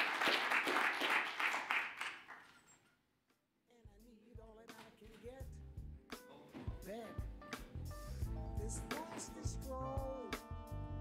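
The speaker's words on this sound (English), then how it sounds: "all those deserve a big round of applause" Dense applause from a crowd at a healthcare workshop for about three seconds, fading out, followed by someone speaking over background music.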